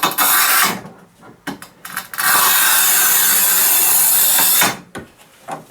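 A TOPVEI TC-X01 manual tile cutter scoring and cutting through a tile, giving a long, loud, steady scraping rasp with shorter bursts of friction before and after it.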